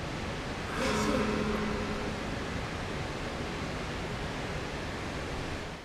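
Steady rushing roar of a waterfall in the video game Project Zero: Maiden of Black Water on Wii U, a continuous even wash of noise throughout, with a brief faint voice near the start.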